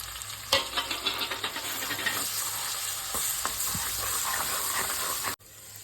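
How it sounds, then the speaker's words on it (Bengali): Spices and onion being sautéed with meat in hot oil for chicken haleem, a close, steady sizzle with scattered scraping and stirring clatter that cuts off abruptly near the end; no talking. "এই যে মশলাগুলো মাংস দিয়ে ভালো করে কষিয়ে নেবো"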